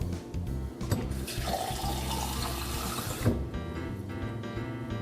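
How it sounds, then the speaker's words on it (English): Tap water runs into a cup for a household kitchen experiment: a steady, fairly loud rushing stream lasting a few seconds, with a couple of faint knocks and no talking. "So first I need a cup. Fill it with water."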